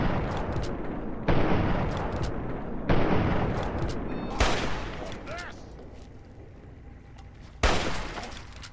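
Gunfire in Fallout 3, several sharp loud shots spaced a second or two apart, each with a short ringing tail over a steady game background, with a final burst near the end.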